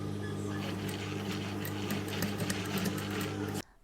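An industrial sewing machine powered by a clutch motor hums steadily with a constant low drone and faint mechanical whir, quiet and continuous before cutting off abruptly near the end.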